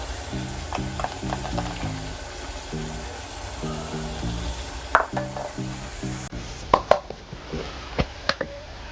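Chicken curry masala with turmeric powder sizzles steadily in a pan, with rhythmic stirring scrapes up close and a few sharp utensil clinks near the end.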